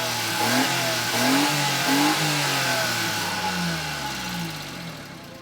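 A small Japanese kei mini truck engine revs up and down through several gear changes, loud and close, with a steady throaty drone between the rises.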